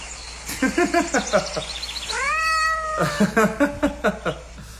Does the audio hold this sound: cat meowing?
yes